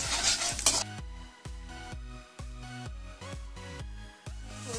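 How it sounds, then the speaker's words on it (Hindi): Chilli gobhi stirred in a pan over a high flame, with repeated scraping strokes of a utensil against the pan in a rhythm of about two per second over a soft sizzle. A brief noisy burst opens the sound. "फ्लेम जो है वो हमारी हाई पर ही है तो हमें ये इसको बिल्कुल स्टर करते रहना है"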